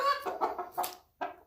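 Hens in a cage cluck in a quick series of close, clear calls, with a short pause before a final sharp cluck.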